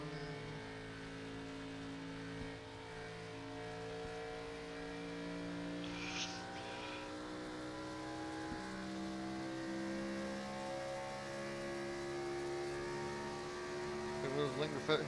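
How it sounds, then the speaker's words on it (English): A Gen 4 race car engine in an AI racing game drones steadily at a fairly constant pitch, sounding bogged down rather than revving freely, with a faint whoosh midway and a rougher flutter at the end. "Sounds like the car is bogging out here."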